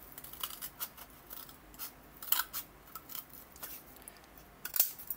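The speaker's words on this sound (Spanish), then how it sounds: "Vamos a ir cortando." Scissors make a series of crisp close snips while cutting cold porcelain clay for a floral orchid ornament, with irregular short cuts and small rubbing sounds in a quiet room.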